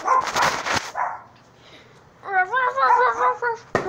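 A dog barks and yips in short bursts, close by, with a quiet gap between bursts and a final sharp bark.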